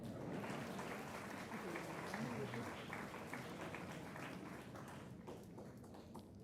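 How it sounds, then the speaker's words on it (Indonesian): Quiet, steady audience applause in an indoor gathering of civil servants; continuous clapping with some speech mixed in, tapering slightly near the end. "Tepuk tangan dong untuk saya."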